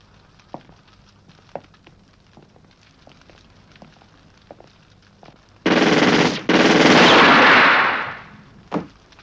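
Machine gun fire in a 1972 Romanian detective film bursts out as a loud, close, sustained rattle after a quiet stretch of faint scattered ticks, pauses for an instant, then roars again before fading and ending with one last shot.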